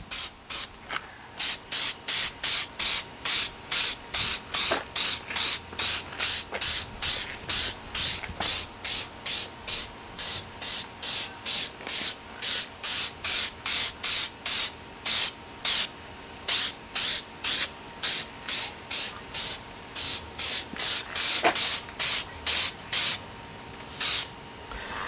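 Meguiar's headlight restoration coating sprays from an aerosol can onto a Toyota Highlander headlight in dozens of short, evenly spaced hissing bursts, close and steady, with no talking.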